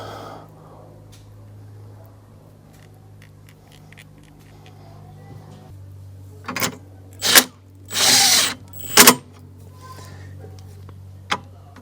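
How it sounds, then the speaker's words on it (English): Power tool fastening a bolt on a Land Rover Defender front skid plate, with several short loud bursts of whirring near the end over a low steady background hum. "I'm not fastening it completely yet, as I need to fasten the second bolt."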